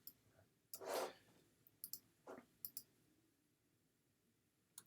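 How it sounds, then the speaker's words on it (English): A few sharp, separate clicks and taps at a computer keyboard, sparse and irregular, close and fairly quiet in a still room. "I'm going to start typing this in."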